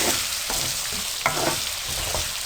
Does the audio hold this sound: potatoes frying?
yes